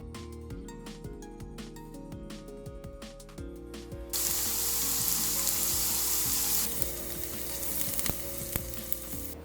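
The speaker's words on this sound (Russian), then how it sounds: "Сейчас я мелко нарежу луковицу и буду ее обжаривать на масле." Chopped onion hits hot oil in a pan and starts frying: after a few seconds of quieter background music, a loud, steady sizzle takes over and keeps going with the music faintly underneath.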